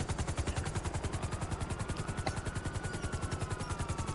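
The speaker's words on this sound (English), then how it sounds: "Hey, come get in the chopper right quick." Video game helicopter with steady, fast rotor chop thumping throughout, loud and close, with a faint sharp crack partway through.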